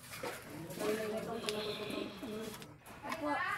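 Soft, low cooing of doves or pigeons repeating in the background, with people talking over it.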